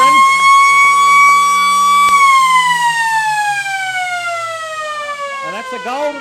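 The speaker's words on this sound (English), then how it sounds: "a goal to Tommy Anderson, right on the siren, left foot snap" A long, loud siren sounds at an Australian football match to end a quarter, a steady tone that holds and then slowly falls in pitch, with crowd voices faintly beneath near the end.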